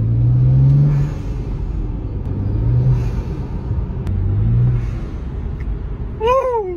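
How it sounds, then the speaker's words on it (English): A turbocharged BMW 335i rumbles and revs in several swelling pushes, then the blow-off valve lets out a quick rising whoosh, loud and close, over a steady low engine drone. "When turbo with the blow-off valve just sounds too nice, bro."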